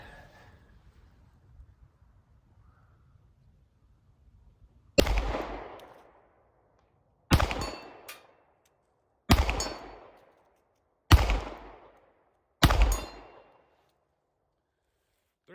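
Five sharp gunshots at a 12-inch steel plate 80 yards away, spaced a couple of seconds apart, each loud and close with a fast-decaying ring, after a quiet lead-in.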